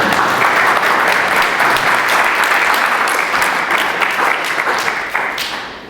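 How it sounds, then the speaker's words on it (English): A live presentation audience gives a sustained round of applause, dense and steady at close range for nearly six seconds before thinning and fading at the end. "how about another round of applause?"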